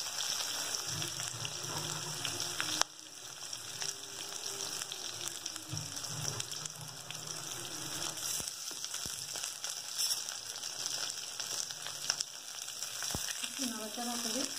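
Onion greens and vegetables fry in a pan for a Bengali tangra fish curry with aubergine, a loud continuous sizzle close up, with a few stirring scrapes and clicks.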